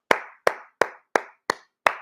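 Six sharp, evenly spaced claps from a single pair of hands ring out close and loud, each one fading quickly before the next.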